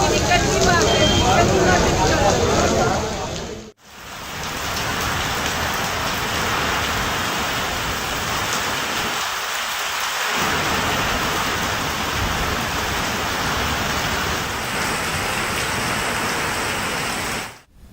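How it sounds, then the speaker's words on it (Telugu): Heavy rain pours down in Hyderabad, a dense, loud hiss of water on surfaces that continues steadily with only a brief break near the start. "ఇక మరోవైపు భారీ వర్షంతో హైదరాబాద్ తడిసి ముద్దయింది."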